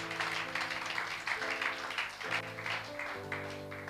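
A church congregation claps during a sermon, soft, rhythmic hand claps running steadily over sustained keyboard or organ chords, the whole scene quiet and somewhat distant.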